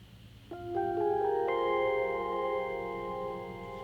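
A quick rising run of electric piano notes from the Neo Rhodes setting on a Yamaha Reface DX, stacking into a shimmering, reverberant chord and slowly fading, played alone with no talking.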